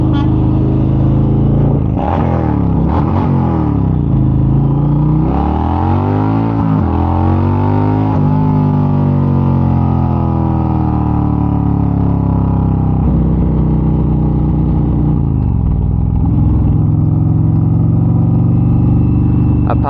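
A Harley-Davidson motorcycle engine revs loudly and close, a deep throbbing idle broken by several quick throttle blips with rising and falling pitch, then settling into a steady rumble.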